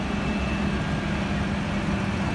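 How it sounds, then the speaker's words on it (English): A tractor in a street parade idles with a steady, loud, low engine rumble close by. The sound stays even for the whole moment, with no speech. "Now, that's a nice tractor."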